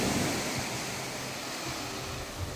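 Waves wash steadily at a beach resort shoreline in Kayupo, Sarangani Province, a soft continuous broadband surf wash with no voices, heard from nearby at moderate level.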